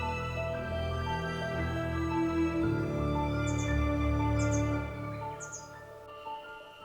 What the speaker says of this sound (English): I heard a faint, young chirp coming from deep within the dense green